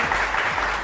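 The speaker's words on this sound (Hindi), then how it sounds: "तालियां आंटी के लिए।" A short burst of audience clapping at a talk show, brief but steady and fairly close.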